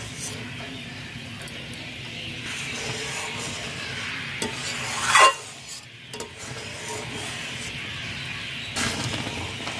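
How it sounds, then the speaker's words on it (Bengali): A spoon stirs milk with grated coconut in a pan, scraping steadily against the bottom with a soft sizzle. There is a sharper clatter of the utensil about halfway through. "দুধ কন্টিনিউ নাড়তে হবে, নিচে ধরে যেতে পারে"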